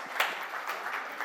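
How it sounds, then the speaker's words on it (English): Short spell of scattered applause from an audience at an evening session, fairly faint and distant, with a few distinct claps over a soft continuous patter. "Can you please have a round of applause,"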